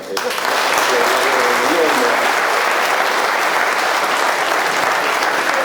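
Sustained applause from an audience at a regional sports conference in Tempio Pausania fills the space, loud and continuous, with a voice briefly audible at the very start.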